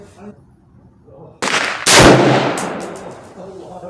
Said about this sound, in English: First shot at 100 yards